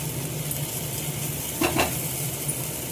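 Green chili and ginger paste sautéing in a pan, a steady sizzle with a couple of brief spoon-against-pan scrapes partway through, close and moderately loud, no talking.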